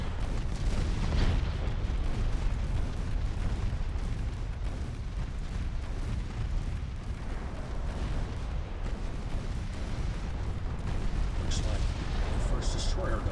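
Naval battle in the Ultimate Admiral Dreadnoughts warship game, where light cruisers fire torpedoes and score hits, gives a steady dense roar of gunfire, rumbling booms and explosions that continues without a break.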